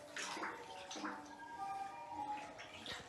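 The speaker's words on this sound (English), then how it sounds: "so if it splashes like that" Water splashes and sloshes over a Ryobi P3520 floating speaker, continuous and close, with music playing from the speaker through it.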